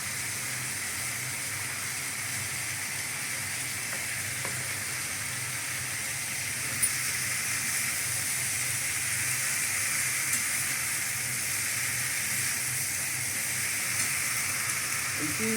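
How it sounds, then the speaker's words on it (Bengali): Malabar spinach stems sautéing with spices in a pan, a steady soft sizzle and hiss throughout with a few faint stirring clicks, no voices. "পুঁই ডাঁটাগুলো দেওয়া হচ্ছে। ডাঁটাগুলো সিদ্ধ হতে হবে, তো তাই জন্য মশলার সাথে কষানো হয়।"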